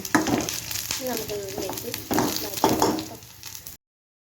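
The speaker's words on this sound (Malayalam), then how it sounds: "അതിലേക്ക് വറുത്തിടാനായിട്ടുള്ള ആവശ്യമായിട്ടുള്ള വെളുത്തുള്ളി, അതുപോലെ ചുവന്നുള്ളി, ഇഞ്ചി എല്ലാം ചെറുതായി എരിഞ്ഞിട്ട് നമുക്കതിലിട്ടിട്ട് വറുത്തിടാം." Garlic, shallots and ginger fry in oil in a wok, giving a crackling sizzle that swells and eases in a few bursts over a few seconds, close and moderately loud.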